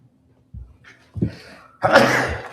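A single sharp sneeze bursts out near the end after a couple of short breathy sounds, loud and close in an otherwise quiet council meeting room.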